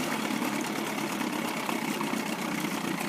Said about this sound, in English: It's kind of nice because you can run it real low like that and it'll troll around all day long.